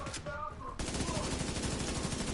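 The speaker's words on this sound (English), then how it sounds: "how you like those electrical bullets?" Gunfire with electrical bullets in the video game Division 2, rapid automatic fire that erupts loud and sustained after a short quieter moment and keeps hammering steadily to the end.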